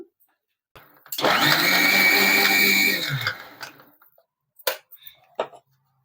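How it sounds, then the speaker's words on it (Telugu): A kitchen mixer grinder whirs loudly for about two seconds blending ginger chutney, with its motor spinning up and winding down, followed by a few sharp clicks and knocks. "ఒక్కసారి మిక్సీలో వేసేసుకుని తిప్పేసుకున్నాను"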